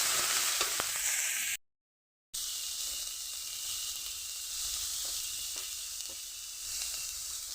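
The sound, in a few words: spice paste frying and being stirred with shrimp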